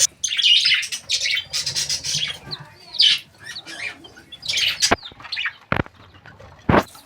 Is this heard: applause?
no